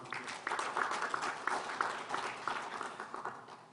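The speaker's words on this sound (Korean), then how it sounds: "박수로 환영해 주시기 바랍니다." A forum audience welcomes a co-chair with a round of applause, a fairly faint, steady patter of many hands clapping in a room.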